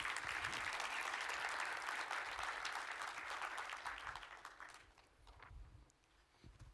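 A big round of audience applause greets a speaker coming to the stage at a craft brewing session, loud at first, then thinning out and fading away, leaving a few scattered claps and shuffling.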